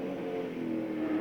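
Australian V8 touring cars race on the 1996 Wellington street circuit, a steady rasping engine drone carrying through a short stretch with no talking.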